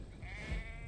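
Sheep bleating in Assassin's Creed Valhalla as wolves threaten it, a single short bleat heard alone and fairly faint over low background noise.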